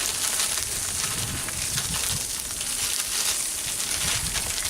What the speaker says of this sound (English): So we'll get a sear on those and then we'll shift them over to the cooler side.